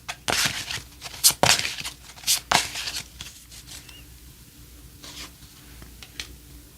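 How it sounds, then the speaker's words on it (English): A deck of tarot cards is shuffled by hand in a quiet room, a run of close, crisp riffles and slides, loudest at the start and fading to softer rubbing toward the end. "All right, I'm going to shuffle another card here."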